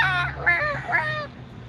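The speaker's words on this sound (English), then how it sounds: "Can you hear the crows?" Three harsh, nasal bird calls, likely crows cawing outdoors in Berlin, ring out in quick succession over low background rumble, fairly close and clear.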